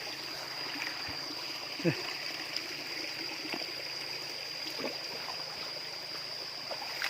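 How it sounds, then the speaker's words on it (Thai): Steady water flowing in a small forest stream after rain, a continuous gentle rush with a few soft clicks and a bird call, close and moderately loud. "ฝนตกแล้วก็มีน้ำไหลตำห้วยเลยเด้อยามนี้เด้อ"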